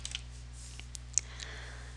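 Keys clicking on a computer keyboard: Control-Alt and arrow keys pressed in a few sparse, faint taps over a steady low electrical hum.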